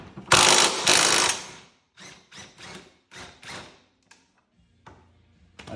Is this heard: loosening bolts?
yes